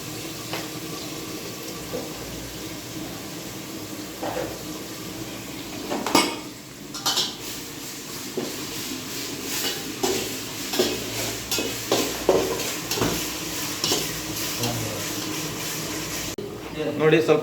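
Ginger garlic paste being mixed in a pot for mutton ghee masala: repeated clinks and scrapes of a spoon against metal over a light sizzle, with voices talking throughout.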